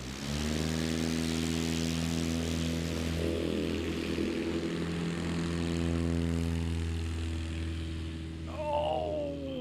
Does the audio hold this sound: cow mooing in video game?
no